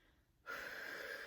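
A single deep inhalation taken to demonstrate breathing for singing, starting abruptly after near silence and continuing as a close, steady, breathy rush of air with a slight wheezy tone.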